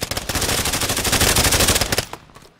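Rapid automatic gunfire in the Call of Duty video game, a loud continuous burst of shots for about two seconds that then cuts off to a faint tail.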